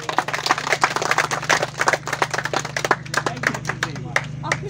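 A crowd at a highland festival auction in Yeniköy claps in an irregular rhythm while people talk and call out over the applause.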